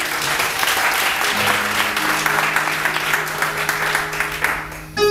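A church congregation applauding steadily to acclaim the Lord, a dense, sustained wash of clapping from many hands with faint voices and a held tone underneath, lasting the whole stretch.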